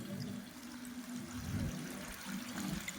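A miniature artificial waterfall in a bonsai display gives off a steady, continuous wash of trickling and splashing water with no pauses.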